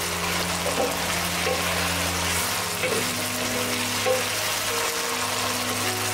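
Chicken pulao frying in oil in a one-pot meal is stirred, giving a steady, close hissing sizzle with a soft scrape or two and no voices.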